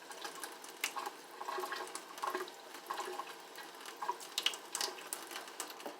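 Tap water runs into a sink while a face is rinsed, a soft, faint splashing flow with small uneven bursts and no voices.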